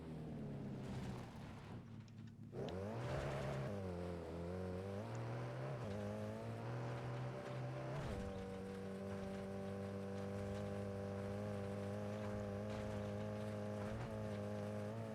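A car engine in the racing video game Fuel, a steady droning tone that rises in pitch as it revs and then holds, continuous and mid-loud, with background music.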